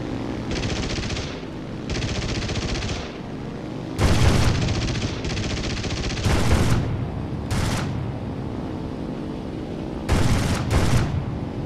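Rapid aircraft machine-gun bursts from 37 mm cannons in the IL-2 combat flight sim, repeated volleys of varying length over a steady engine drone, with heavier booming shots mixed in.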